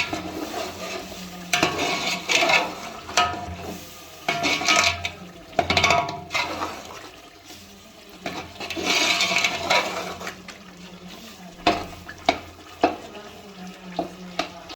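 Chicken and spices fry in a pot for a haleem dish while a spoon stirs and scrapes in irregular bursts. A soft sizzle runs underneath, close by, with no voices.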